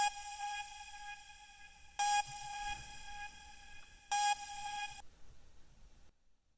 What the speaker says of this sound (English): A vocal type lead sound.